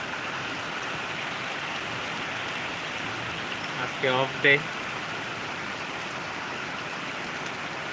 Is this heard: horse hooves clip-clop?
no